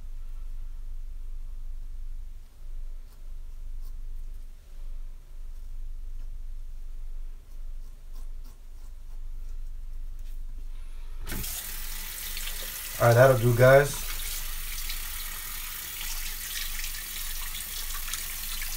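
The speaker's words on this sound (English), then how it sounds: "You go ahead and just rinse off. Warm water, then cold water." A bathroom tap suddenly starts running during a wet shave rinse, a steady hissing stream of water that continues to the end, with someone briefly speaking over it partway through.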